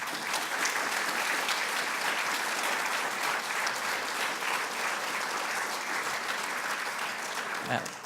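A lecture audience applauds to thank an author after his talk on the book Blood and Silk, producing sustained, even clapping from a seated crowd that stays dense and steady for the full stretch, fairly soft in level.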